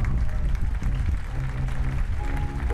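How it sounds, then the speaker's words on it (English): A crowd applauds an injured basketball player as he gets back up during a FIBA 3x3 World Tour 2019 Prague Masters game between Novi Sad and Humpolec. The applause is a dense, steady patter, heard under an announcer's voice. "He gets some applause from the crowd"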